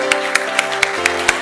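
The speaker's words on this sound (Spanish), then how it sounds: "Vamos a darle un gran aplauso a nuestro pastor." Rhythmic, evenly spaced clapping from a Mexican church congregation at a Sunday service honouring their pastor, beating about four times a second over sustained music.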